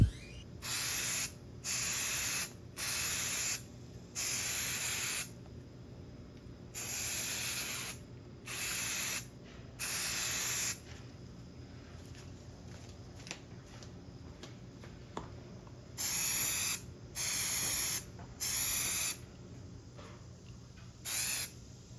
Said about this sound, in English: I'm coming in with the Sherwin-Williams spray primer to spot prime